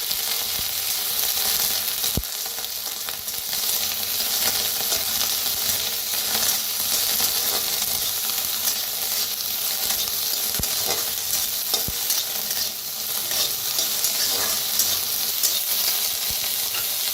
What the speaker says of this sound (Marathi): आता जेवढेही आपण बनवूया, शिमला मिरची भाजून घेऊया, ढोबळी मिरची